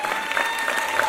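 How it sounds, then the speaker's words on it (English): A crowd at a political campaign event applauds in a brief, full and steady round of clapping from many hands. "just please give them all a round of applause"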